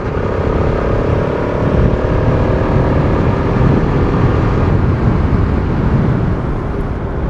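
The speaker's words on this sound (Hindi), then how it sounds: "ये मेरा पल्सर RS 200 BS6 मॉडल है" Bajaj Pulsar RS200 BS6 motorcycle on a morning ride, with a steady, loud engine drone and road rumble running continuously without letup.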